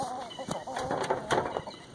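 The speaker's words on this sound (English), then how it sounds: "You got more than one rooster. You got a battle going." Several roosters fighting, with sharp clucks and short squawking bursts scattered through a busy scuffle, fairly close, and a voice talking faintly underneath.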